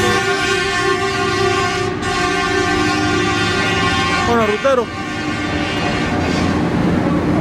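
A train rolls past at a railway crossing, its horn sounding loud and sustained as the rumble continues. The horn's pitch bends briefly midway, and someone speaks a few words at the start.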